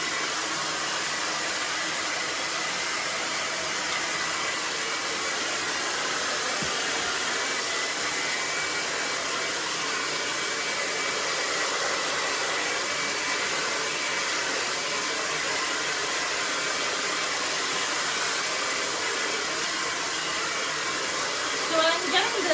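Hair dryer blow-drying a salon client's longer haircut, a steady loud airy roar running continuously and close throughout, with a brief small clatter near the end.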